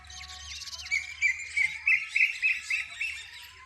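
Small birds feeding on scattered rice at a village bus stand chirp and tweet in a lively, overlapping chorus, with a steady low rumble beneath.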